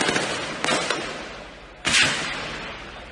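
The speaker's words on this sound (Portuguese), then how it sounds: "Criminosos dispararam contra um dos carros blindados." Gunfire from criminals shooting at armored police vehicles during a police operation, a few loud sharp bursts that ring and echo outdoors, with no voices.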